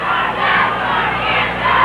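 A football game crowd and cheerleaders roar and chant together in a continuous loud wash of voices, sustained across the short span.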